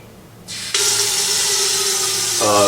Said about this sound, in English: We do have to add water for my potatoes.